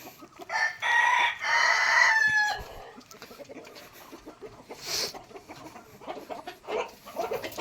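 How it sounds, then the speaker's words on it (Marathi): Kadaknath chickens cluck and a rooster crows loudly near the start, followed by scattered clucking and rustling in a Konkan village farmyard. "मस्त की कोंबड्या सगळ्या ही बघा कडकनाथ"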